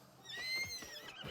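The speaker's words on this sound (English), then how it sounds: "Horse?" A horse whinnies in the Trek to Yomi video game: one short, high, quavering neigh, fairly faint and heard alone.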